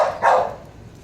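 A fearful dog lets out a short, tense bark followed by a second louder yelp, close and alone with no talking.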